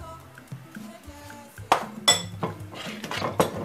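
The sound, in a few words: mashing plantain cookie mixture in a bowl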